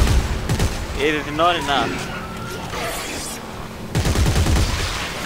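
Bursts of gunfire from the video game Dead Space 3 crackle at the start and again near the end, with someone talking in between over the fighting.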